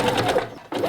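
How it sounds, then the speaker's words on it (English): A sewing machine stitches a hat band to the brim of a homemade bucket hat, a close, steady mechanical whir with a brief pause near the end before it runs on. "we can evenly space out the band and the brim when sewing them together"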